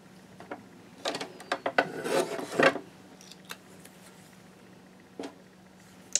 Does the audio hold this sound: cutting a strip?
yes